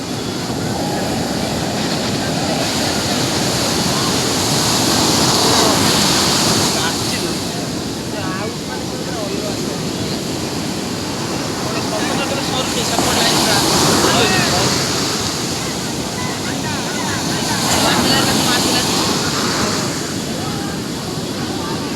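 Sea waves at the beach in Puri, a loud continuous roar of surf with wind gusting against the microphone and swells rising and falling every few seconds.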